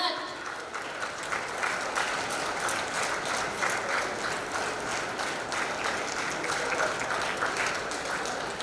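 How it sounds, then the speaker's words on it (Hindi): Loud, sustained applause from a large crowd at the Champions of Change Maharashtra award ceremony, a thick, unbroken roar of clapping holding steady from start to finish. "जोरदार तालियों से ये गड़गड़ाहट।"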